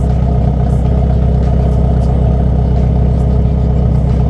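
A car engine runs loud and steady through a new straight-pipe exhaust with no muffler, a deep droning rumble held at constant revs throughout, close to the microphone.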